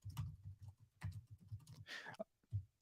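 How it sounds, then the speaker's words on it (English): Typing on a satisfying-sounding computer keyboard gives a quick patter of soft key clicks in short bursts. The keys are close and fairly quiet, and no one talks over them. "That's how it sounds when you type on it, which is a little satisfying."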